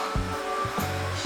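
A steady, whirring hot-air hair dryer used for barber hair styling blows continuously with a faint hum, punctuated by a few soft low thumps.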